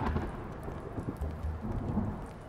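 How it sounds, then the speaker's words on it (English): Thunderstorm in the video game Blacksad: Under The Skin, a dense, loud wash of rain over deep rumbling thunder, continuous throughout with no talking. "Thundering, lightning."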